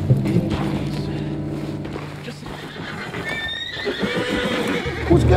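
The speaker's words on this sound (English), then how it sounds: "What's got this horse spook, huh?" A spooked horse in the video game Red Dead Redemption 2 gives a loud, rising neigh midway, with hoof clip-clops and thuds over a low, droning game backdrop.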